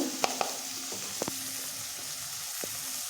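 A wet paste of cumin, chili and coriander powder goes into a hot pan while making a cabbage dish, giving a steady low sizzle with a few sharp clicks of a spoon, close and fairly quiet.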